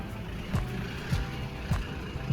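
A pickup truck backs slowly into an unloading spot with a low, steady engine rumble close by, broken by three evenly spaced dull knocks, with no talking.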